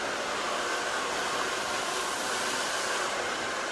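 A hair dryer blows steadily at close range while hair is blow-dried, giving an even, loud airy whir that runs without a break.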